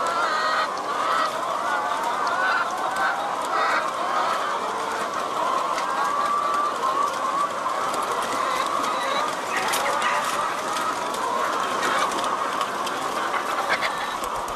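Many chickens clucking inside a crowded henhouse, a dense continuous chorus of overlapping clucks and squawks at steady loudness, with faint speech mixed in.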